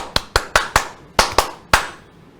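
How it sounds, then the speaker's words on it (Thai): Seven sharp, separate hand claps ring out in an uneven rhythm, each a crisp close slap with a short decay, with no talk over them. "เสียงปรบมือคือกำลังใจสรยุทธ์ให้ต่อสู้"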